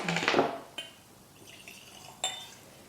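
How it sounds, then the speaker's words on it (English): Laphroaig Quarter Cask Scotch whisky poured into a Glencairn glass, a brief close liquid splash and glug followed by light glassy clinks and a sharp tap near the end. "So the Laphroaig Quarter Cask, pour a good drum out."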